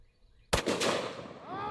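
One sharp, loud gunshot firing a 300-grain jacketed hollow point round bursts out after a quiet moment, followed by a long rumbling decay with faint ringing echoes.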